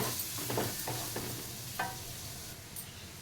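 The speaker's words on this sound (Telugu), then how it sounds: "మనం దీన్ని కూడా ఫ్రై చేసుకోవాలి" Carrot pieces frying in a pan for paneer fried rice, with a steady low sizzle and a few scraping stir strokes of a spatula across the pan, heard close with no talking.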